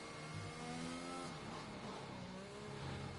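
Race car engine in a sim racing game, Spain circuit, revving hard and climbing through the gears as it accelerates out of a corner, loud and continuous with layered harmonic engine whine throughout.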